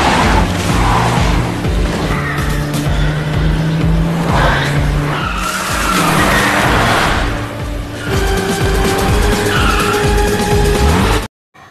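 Action-film car chase in which a car roars at high revs while its tires squeal and skid repeatedly, loud and continuous with engine whine and screeching, cutting off abruptly at the end.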